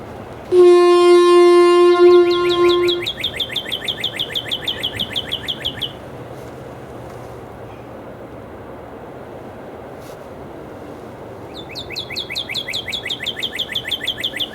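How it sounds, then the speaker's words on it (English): Birds chirp and trill outdoors in repeated rapid bursts, starting loud and close after a brief steady horn-like tone, then fading out and returning toward the end over a soft background hum. "The birds will entertain you."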